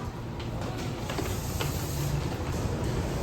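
Continuous broadband rumble and hiss of a moving train, steady and loud throughout, with faint clanks rising above the noise.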